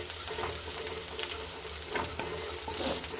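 Crushed ginger and garlic sizzle in a hot pan, a soft steady frying hiss with faint scrapes of stirring throughout.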